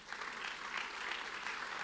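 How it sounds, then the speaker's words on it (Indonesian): A church congregation at a Sunday service in Gorontalo claps together, a faint but steady ripple of applause that sounds somewhat distant. "Beri tepuk tangan untuk Tuhan."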